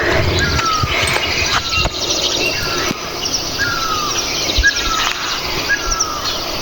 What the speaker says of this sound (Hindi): ये चिड़िया कितनी चहचहा रही है।